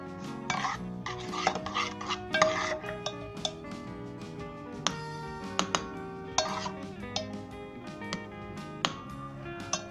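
A ladle scrapes and clinks against a pot and serving dish while kheer with raisins, pistachio, almond and coconut is spooned out, close metallic chinks and taps sounding in irregular bursts over a quiet kitchen.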